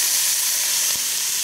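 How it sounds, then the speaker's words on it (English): Beef steaks laid seasoned side down on a hot Ninja Foodi grill give off a steady, even sizzle and hiss that runs unbroken throughout, with no voices over it. "just going to put the steaks down, seasoned side down. Hear that sizzle?"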